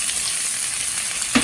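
Onion sautéing in a pan with cumin, ginger and garlic, a steady close sizzle throughout, ending in a brief knock of a utensil against the pan.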